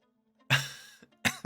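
A person recovering from a virus gives two or three short, close coughs with throat clearing, separated by a brief pause, alone without talk.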